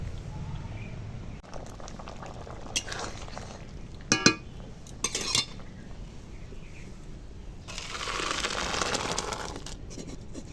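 Cooked sour red lentil dal made with raw green mango is poured out of a cooking pot, with soft liquid sloshing, a few sharp metallic clinks of utensil on pot, and a steady low background hiss.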